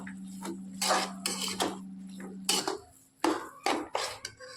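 A metal spoon scrapes and knocks against a pan as soybean paste is stirred into frying dal, a run of close, irregular clinks and scrapes with short pauses between strokes.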